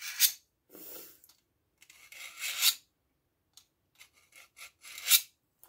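Grinding or filing the centerline edge on a 7-inch fillet knife blade, a rasping scrape in four or five separate strokes of varying length, fairly faint and close, with short pauses between passes.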